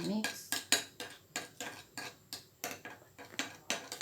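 A spoon stirs a lotion mixture for cracked-heel cream in a bowl, giving a steady series of about a dozen light metallic clinks and scrapes, close and quiet, with no talking.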